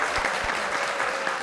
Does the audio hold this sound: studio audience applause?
yes